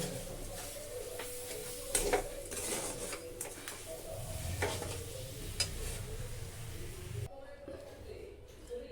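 Spoon stirring a pitha filling cooking with date palm jaggery in a pan, giving steady scraping and faint sizzling with occasional clinks of utensil on metal, close by, then dropping quieter near the end.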